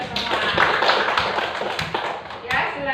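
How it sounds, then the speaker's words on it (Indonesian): Applause from a class of schoolchildren, a steady dense patter of hand claps filling the room, with voices mixed in. "Ya, beri tepuk tangan untuk kita semua."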